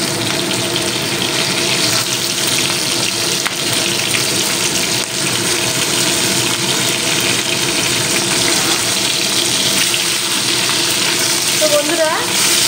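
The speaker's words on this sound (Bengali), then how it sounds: "পাবদা মাছ এমনি খুব নরম হয়, তো আমি একটু কড়া করে ভেজে নেব" Pabda fish frying in oil, a loud, dense, continuous sizzle close by that holds steady throughout with little variation.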